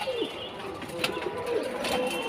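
Pigeons, Budapest and racer breeds, cooing in a loft, several soft throaty coos rising and falling close by over low background hum.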